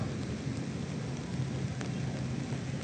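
Steady rain patters continuously at low volume, a dense even hiss with occasional soft drops and no voices, at Dolomite Beach during a storm.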